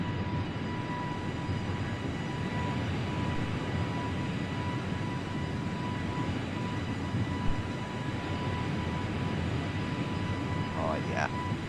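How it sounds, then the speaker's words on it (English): Airliner engines in Microsoft Flight Simulator 2024 hold a steady, broad roar through a takeoff run from New Orleans, with a constant whine and no clear build or fade. "Oh, that's a pretty cool takeoff."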